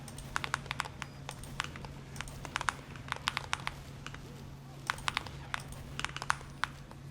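Quick bursts of key presses on an IQUNIX EV63 Hall Effect keyboard, crisp clicky taps in uneven clusters recorded close up over a low steady hum, with short pauses between runs of typing.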